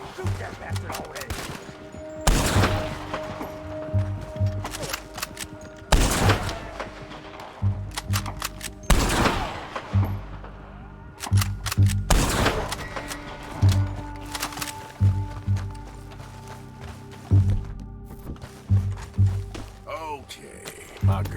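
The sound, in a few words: gunfire in the video game Red Dead Redemption 2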